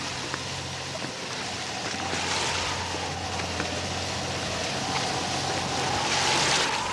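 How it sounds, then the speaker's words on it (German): A 1978 sailboat motors out against the wind near Bornholm, its engine a steady low drone beneath broadband rushing of wind and water, sustained and unbroken throughout. "Unter Motor laufen wir gegen den Wind aus."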